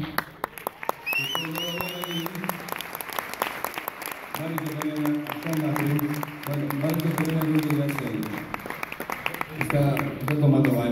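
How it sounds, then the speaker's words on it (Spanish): Audience applause for three guests at a music performance rolls on continuously while a voice speaks and sings over it. "debo pedir un aplauso para mis tres invitados"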